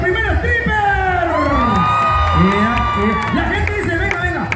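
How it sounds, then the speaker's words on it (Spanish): A dense, loud crowd at a 2019 fair stripper dance contest in Cacahoatán, Chiapas, screaming, whooping and cheering wildly and continuously for the first stripper, with shrill rising shouts over a steady roar. "Grito, aplausos enloquecidos del primer stripper."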